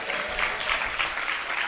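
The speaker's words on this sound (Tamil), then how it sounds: "புரிஞ்சா நல்ல கைத்தட்டுங்க அவருக்கு." An audience claps at a gathering in a village, a short burst of close, steady applause lasting under two seconds.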